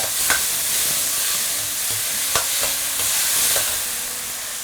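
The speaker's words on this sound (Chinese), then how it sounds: "我们下入番茄粒， 再用最大的火先给它炒一下，把番茄的果胶给炒出来" Diced tomato stir-fried in a wok over the highest heat, a steady close sizzle broken by a few sharp scrapes and clacks of the spatula, with no voices.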